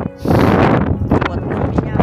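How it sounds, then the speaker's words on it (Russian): Strong wind buffeting the microphone outdoors in winter in Israel, loud low-frequency gusts that rise after a brief quiet moment and roar under someone speaking. "Дует сильный ветер, сильнейший"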